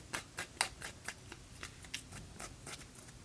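Quick, crisp snips of scissors cutting paper repeat in an irregular rhythm, close by and fairly quiet.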